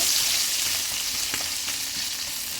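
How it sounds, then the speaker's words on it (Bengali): Chopped onion sizzles and fries in a pan, a steady close crackling hiss with a few small pops and no voices. "প্রথমে আমি এখানে দিয়ে দিব পেঁয়াজ কুচি দিলাম"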